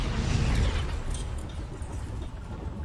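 An explosion spell such as Bombarda or Confringo goes off in Hogwarts Legacy, a deep rumbling boom that peaks early and slowly decays into a lingering low roar.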